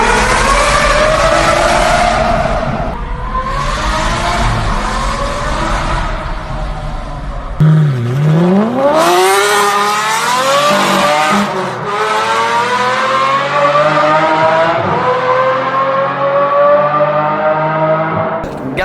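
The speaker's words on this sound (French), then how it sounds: "Voici une vidéo d'une V12 Vantage avec un straight pipe parce que le bruit est hallucinant" Aston Martin V12 Vantage with a straight-pipe exhaust revving hard, loud close rising and falling wails with sharp throttle blips and crackles, sweeping up through repeated high-pitched climbs.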